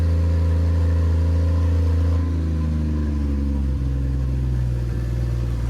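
The engine of a barn-find 1940 Mercedes 320 runs loud and close in a workshop, revving hard and then dropping to a lower, rougher idle partway through.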